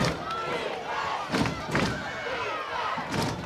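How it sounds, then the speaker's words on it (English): A crowd at a high school football game, Culpeper County against Eastern View, roars in a continuous wash of distant cheering with a few thuds, while faint talk sits underneath. "certainly the crowd is into it now"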